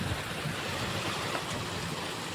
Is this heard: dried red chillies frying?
no